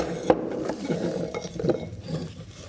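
A toy pot lid and toy pan being handled up close, with a few sharp clinks and light scraping taps scattered through.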